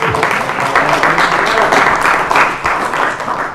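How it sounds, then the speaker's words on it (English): A crowd at a City of Orlando council meeting applauds with loud, sustained clapping that runs steadily for several seconds. "Let's give her a round of applause."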